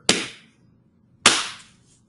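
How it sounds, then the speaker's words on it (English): Two sharp hand claps, about a second apart, each a crisp close slap with a short room tail, in an otherwise quiet indoor setting. "So let me just go ahead and clap here."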